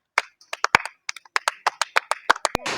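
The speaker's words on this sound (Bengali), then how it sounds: "সকলে জোরে হাততালি" Scattered hand claps for a young contestant at a village ball-tossing challenge, a few people clapping in an uneven, sparse rhythm close by, with brief noise at the end.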